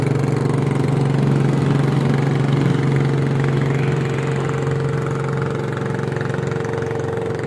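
A boat engine runs steadily on Laguna lake, a loud, close, continuous low drone with a rough chugging texture and no voices over it.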